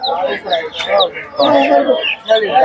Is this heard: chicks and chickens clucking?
yes